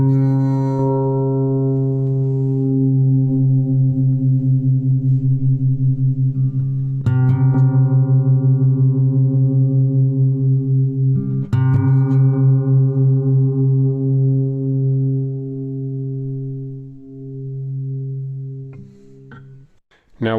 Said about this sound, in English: Listen to these two guitar strings go in and out of tune and the beating or pulsing